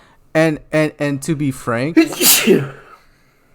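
A person speaks briefly in a podcast conversation, then lets out a single loud, sharp sneeze close to the microphone, followed by quiet.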